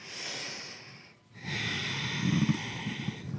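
Close breathing during a home yoga stretch for lower back relief, a long steady inhale then a fuller exhale after a brief pause, soft and unaccompanied.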